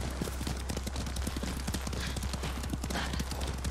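Horse hooves clip-clop in a quick, steady rhythm at a close ride through Ghost of Tsushima, loud and continuous under a dense background.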